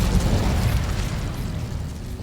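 An Incendio fire spell is cast in the video game Hogwarts Legacy, a sudden loud whooshing burst of flame that swells at once and then fades over a couple of seconds, with no speech.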